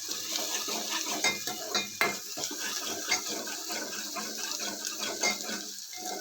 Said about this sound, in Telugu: మీడియంలో పెట్టుకుని వేయించుకోండి.